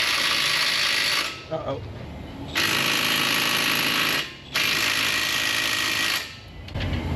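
A right-angle ratchet works a 19 mm caliper pad bracket bolt on a car, giving loud, close bursts of rapid rattling that stop and start in three long runs with short pauses, and a brief spoken exclamation between them.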